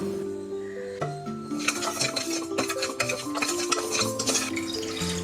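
Dry lentils and raw rice stirred and scraped around a hot pan while dry roasting, a continuous rattling, scratching texture close by, with a faint low hum throughout and no talk.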